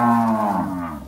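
A single loud, close cow moo, one long low drawn-out call from cattle being rounded up for vaccination on a farm, with no voices over it.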